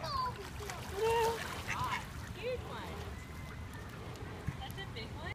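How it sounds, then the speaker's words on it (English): Ducks being fed in a park: several quacks and calls over a busy outdoor background, with a splash and people speaking nearby. "We got to feed the ducks in the park."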